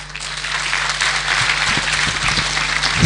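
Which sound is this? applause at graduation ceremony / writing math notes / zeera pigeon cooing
applause at graduation ceremony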